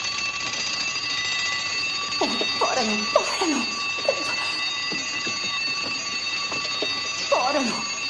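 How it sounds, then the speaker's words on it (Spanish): An alarm clock rings steadily and continuously at moderate loudness, while voices talk over its unbroken tone. "Pondré el despertador."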